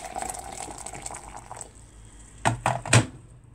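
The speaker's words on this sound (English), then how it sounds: "I have hot water here. Put it inside this cup." Hot water pours into a cup nearby, a thin steady trickle for a second or two, then a few brief louder splashes and glugs.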